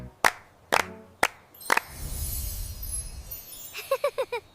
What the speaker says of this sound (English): Clap, clap, clap, feel so glad.